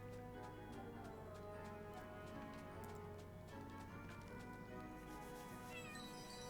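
A cat meows in a fantasy adventure video game, heard faintly over a continuous game music bed with steady ticking and clip-clop beats.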